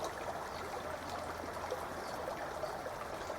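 Water flows steadily over stones in a creek, a soft, continuous trickle and babble heard close by with no other sounds.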